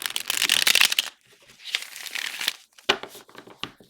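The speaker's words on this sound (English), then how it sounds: "It shuffles really well." A Marseille-style tarot deck with square corners being shuffled by hand: three bursts of crisp card riffling and crinkling, close and fairly loud, separated by brief pauses.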